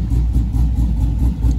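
A 6.0 Chevrolet Silverado V8 with a Texas Speed BFD cam, stock 4L60 transmission, 3600 stall converter and non-mandrel-bent exhaust idles loud and close, with a lumpy, rhythmic chop pulsing through the exhaust. No voices.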